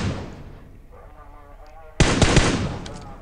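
Gunfire in a video game shot into a smoke cloud during a solo ranked match: a loud burst of rapid shots that starts suddenly after a quieter stretch of game ambience.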